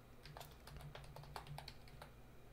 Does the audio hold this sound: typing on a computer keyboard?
yes